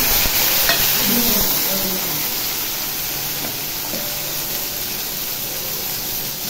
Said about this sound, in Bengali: আজকে আমি মাছের তেল দিয়ে করব, সেই কারণে দিলাম পেঁয়াজ কুচি।